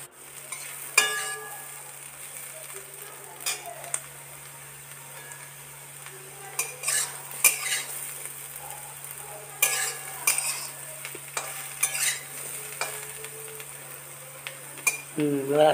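Potatoes fry with turmeric in oil in a kadai for a village meal, a soft steady sizzle under repeated scraping and clinking strokes of a spoon stirring the pan, with a constant low hum throughout.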